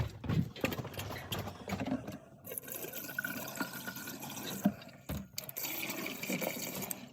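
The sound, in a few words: pouring a jug of RV antifreeze down camper drains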